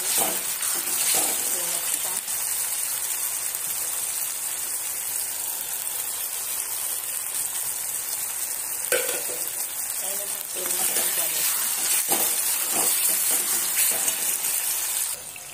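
Tomatoes roasting in a pan sizzle with a continuous bright hiss, broken by occasional scraping stirs and small clatters, fairly close, and they stop abruptly at the end.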